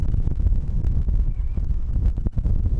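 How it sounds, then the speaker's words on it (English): Strong gusting wind buffeting the microphone outdoors in the Snowdonia mountains beside a car, a continuous loud low rumble with irregular blasts. "just as windy as it was yesterday"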